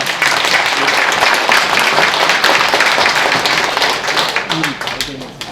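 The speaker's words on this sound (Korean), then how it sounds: "큰 박수로 맞이해 주십시오" A hall audience at a Korean sponsors' evening event applauds warmly to welcome the moderator, with loud, dense clapping that thins near the end as a few voices come through.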